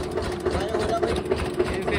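A tractor engine with a slight mechanical problem runs at a steady idle, its low continuous hum and rattle going on throughout while people talk over it.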